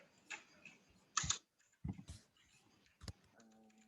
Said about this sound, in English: type this out.